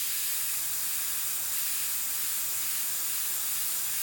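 An airbrush sprays paint for a realistic hawk's eye painting, giving a steady, soft hiss of air that runs unbroken from start to finish, close by and moderately quiet.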